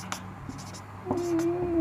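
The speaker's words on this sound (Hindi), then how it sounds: "तो यहाँ पे हम लोग थोड़ा सा लिखेंगे" Pen or chalk scratching on a board during a classroom science lesson: a few short scratchy strokes, then a longer stroke with a squeaky tone, close and fairly quiet.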